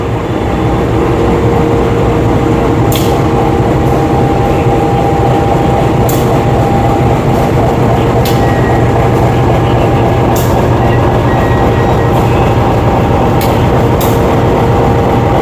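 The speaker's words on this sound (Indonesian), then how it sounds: "lokomotif langsir, dan inilah loko yang akan menarik KA Airlangga" CC 201 shunting locomotive preparing to haul the KA Airlangga train in Indonesia, a loud steady diesel rumble with a sustained engine drone and occasional sharp metallic clanks, close by.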